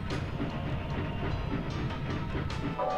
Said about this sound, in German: das ist so ein Schädelzug. Das hat er sich gebaut.